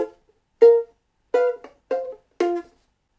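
Ukulele plays a jazzy ending: a single chord, a pause, then three short punchy strummed chords spaced apart, close and clear with no voice.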